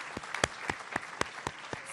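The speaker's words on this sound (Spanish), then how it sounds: "también un fuerte aplauso para ellos porque son parte de esta transformación y de este trabajo" Scattered applause from an audience at a Salud Casa por Casa health program event in Acapulco, Guerrero, welcoming cabinet members: a thin run of separate, sharp claps spaced across two seconds, fairly faint.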